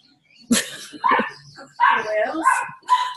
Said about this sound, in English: Can we shut these dogs up?